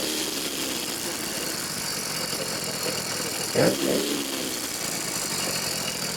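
A 100cc motor fitted to a bicycle runs steadily with a buzzing drone amid broad road and wind noise, and a brief louder burst comes near the middle. The engine sounds close and continuous, and no one speaks.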